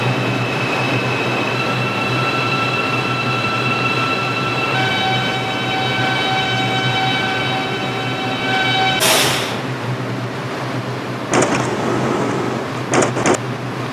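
A New York line 6 local subway train in the Subway Simulator game for Android runs with a steady rumbling drone and whining electric tones, followed by a sharp burst and a few clanking knocks near the end.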